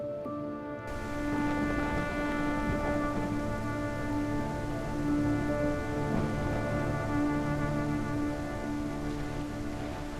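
A thunderstorm pours steady rain with low rolling rumbles of thunder. The wash of rain runs on without a break, joined by a sustained tonal drone underneath.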